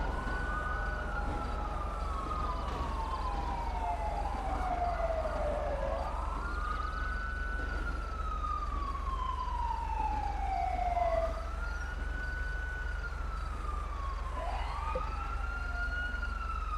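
Wailing sirens of an ambulance and a fire engine arriving at a scene in the GTA 5 video game, with several overlapping rising and falling sweeps over a steady low rumble, moderately loud throughout.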